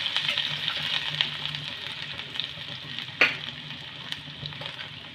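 Chopped ginger stirred in hot oil with cumin: a continuous close sizzle with light spatula scrapes and one sharp knock partway through.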